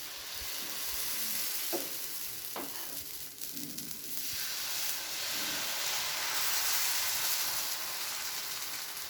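A roti fries on a hot pan over medium heat, giving a steady, bright sizzle and hiss with a few soft knocks and scrapes early on, continuous throughout.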